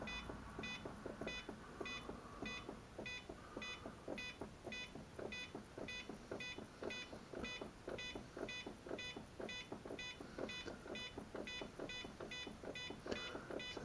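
Trim beeps from a Walkera Nova CX-20 RC quadcopter transmitter while its manual trim is set to zero: a steady run of short and long electronic beeps, evenly spaced and close, over a constant background hum.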